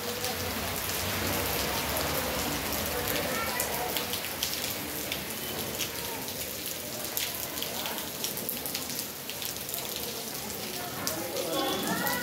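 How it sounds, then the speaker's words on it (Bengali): Heavy rain falls on a street with water pooling, a dense continuous hiss and patter of drops on surfaces, fairly close and steady, with faint voices in the background. "এত বৃষ্টি হচ্ছে"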